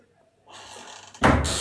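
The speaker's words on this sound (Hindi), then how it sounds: "दरवाजा तो बंद कर दे" Indoors a door swings and then shuts with a sudden loud thud near the end, after a rising rustle of movement as it is pushed closed.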